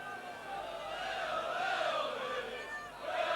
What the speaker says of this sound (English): Crowd really getting behind the liners now.